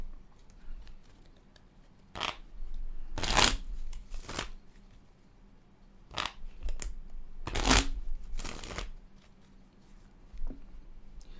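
Tarot cards are shuffled close up in several quick riffling bursts spaced a second or more apart, with softer handling sounds and quiet between them, and no speech.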